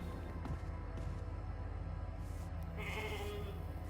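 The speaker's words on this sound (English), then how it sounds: "I'm wasting like 20 minutes just to pat a sheep" A sheep bleats steadily in The Alters video game, a close, continuous animal call over a constant low hum, with no voices.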